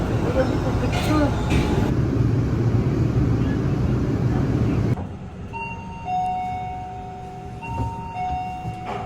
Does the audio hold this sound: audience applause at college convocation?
no